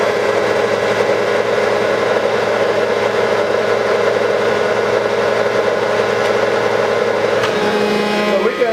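A machine with a hydrostatic transmission drives forward on a flat surface, giving a loud, steady mechanical hum and drone that holds even throughout, with a small shift near the end.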